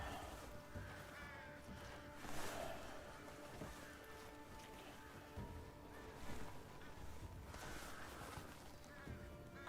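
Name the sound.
crows cawing in a video game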